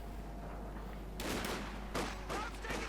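In a Company of Heroes 2 match, a light machine gun fires several short bursts, separate crackling volleys over faint background battle noise.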